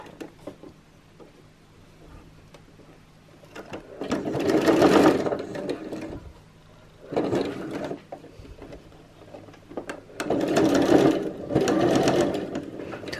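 A sewing machine stitching a Christmas tree skirt runs in three separate bursts of fast whirring and clattering, with quiet handling and small mechanical sounds in the pauses.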